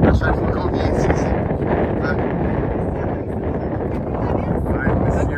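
Strong wind buffets the microphone outdoors, a loud continuous roar and rumble with gusty swells that never lets up.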